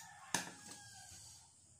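Faint chickens clucking in a quiet outdoor setting, with one sharp knock near the start followed by a few soft, drawn-out fowl calls.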